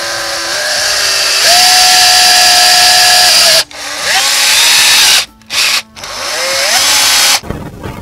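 A power drill drives longer screws while an old wood-fired kitchen stove is fixed onto a cart for an outdoor kitchen. Loud, close motor whine comes in several runs that rise in pitch, broken by short pauses.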